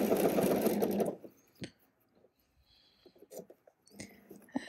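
A sewing machine runs in a loud burst for about a second while tacking a ready-to-wear waistband, then stops, leaving quiet handling clicks and rustles of fabric close by.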